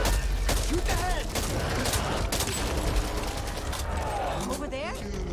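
Rapid gunfire from a Back 4 Blood zombie shooter fight, dense bursts of shots cracking loudly throughout, mixed with creature screeches and shouted voices over the action.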